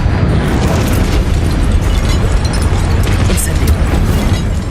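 Dense, roaring explosive blast from the Confringo fire spell in Hogwarts Legacy, loud and sustained with crackling bursts throughout and speech mixed in.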